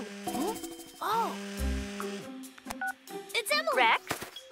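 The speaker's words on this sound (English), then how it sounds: "Oh, Rex, you should check your phone." A phone in an animated superhero dinosaur robot cartoon rings with a series of electronic beeping tones. The tones are mixed with excited, high-pitched cartoon character voices and sound effects.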